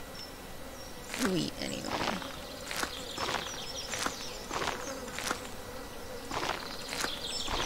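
Buzzing insects in the video game Stardew Valley, close repeated buzzes sweeping past in short bursts about every second, with a brief spoken remark partway through.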